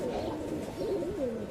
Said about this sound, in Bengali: এই যে দুটা দেখেন আমার হাতে আছে দুটা কবুতর